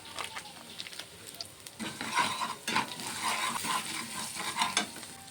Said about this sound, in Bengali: সব কিছুকে একটু নেড়ে চেড়ে নেব।